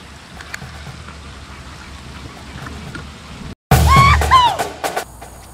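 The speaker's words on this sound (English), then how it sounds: "In the pouring rain!" Pouring rain during a bass fishing outing, a steady hiss of rainfall that cuts out briefly, then returns louder with a burst of splashing and rushing water near the end.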